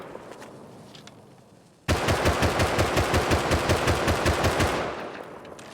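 Sustained rapid automatic gunfire from the video game Rust, loud and close, with steady bursts running about three seconds after a quiet background lead-in.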